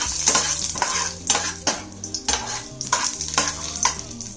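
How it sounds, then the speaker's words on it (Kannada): Cinnamon, cloves, cardamom and cashews frying in a little oil, a close, steady sizzle broken by quick rhythmic spoon stirs scraping the pan, with no voices. "ಇಲ್ಲಿ ಸ್ವಲ್ಪ ಆಯಿಲ್ ಹಾಕ್ಕೊಂಡಿದ್ದೀನಿ ಈ ಚಕ್ಕೆ ಲವಂಗ ಏಲಕ್ಕಿ ಏನಿದೆ ಅದು ಹಾಕ್ಕೊತಾ ಇದ್ದೀನಿ"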